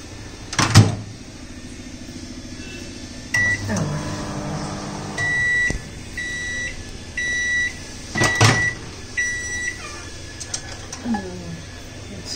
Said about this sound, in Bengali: এটাকে মাইক্রোওয়েভ করে দিই এবার, ঠান্ডা তো, খেলে ঠান্ডা লেগে যাবে, ওই জন্য একটু গরম করে দিই, জাস্ট 30 সেকেন্ড একটু ঘুরিয়ে দিলে হয়ে যাবে